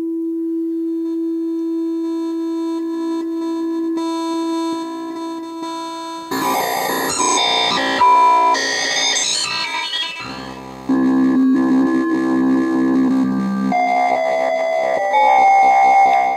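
A Waldorf Blofeld synthesizer tone starts as a steady pure sine pitch, then erupts into sweeping, harsh sync-style timbres as the slave oscillator's pitch is modulated, shifting and jumping in pitch, ending on buzzy sustained notes.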